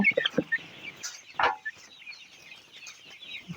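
Several 31-day-old coloured broiler chickens cluck in short bursts close by, with a louder squawk in the middle and quieter rustling afterward.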